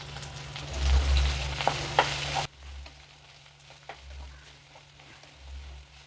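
Okra and egg stir-fry cooking in a pan, a loud close sizzle with spatula clicks for a couple of seconds that then drops to a quieter frying hiss with occasional scrapes, with no talk.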